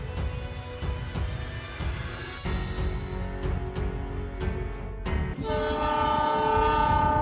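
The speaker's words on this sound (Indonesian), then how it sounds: "Nah, itu kan klakson kereta apinya sudah kedengeran" A miniature stop-motion model train at a level crossing sounds its horn in steady, sustained tones over continuous rail rumble and clatter, loud and close throughout, with a brighter held horn note toward the end.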